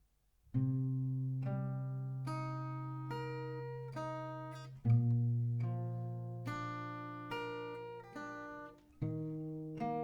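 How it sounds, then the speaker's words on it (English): Slow, sustained chords ring out on an acoustic guitar, each strummed with arpeggiated plucks and left to decay, four changes in a calm, unhurried progression. "I'm gonna play the first 4 chords for you, so you get an idea of how it sounds together"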